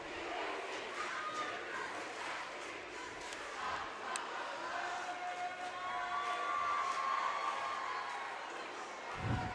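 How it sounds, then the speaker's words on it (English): A large crowd at a close high school varsity basketball game roars and cheers continuously, loud and dense throughout, with scattered shouts rising out of the noise. "I do not think this crowd could get any louder, Mason."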